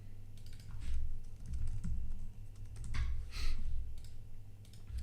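Typing on a computer keyboard while building a custom landing page in Webflow, with steady bursts of close clicking keystrokes over a low background hum; no one talks.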